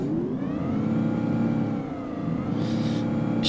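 MAN NL 313 CNG city bus engine in OMSI 2 accelerating from a start, a steady mid-pitched revving drone with rising harmonics, loud and continuous, with a brief hiss near the end.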